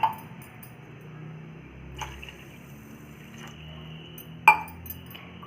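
Water poured from a cup onto raw rice in a pot makes a soft, steady trickle, with a few sharp metallic clinks of the cup against the vessel, close up and quiet.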